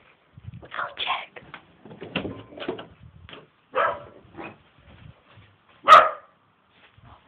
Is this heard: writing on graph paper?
no